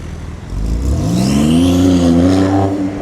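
Porsche 992 Turbo S fitted with an aftermarket exhaust accelerates with a rising, steady engine note that swells after a quieter start and holds loud and near to the end, with no talking.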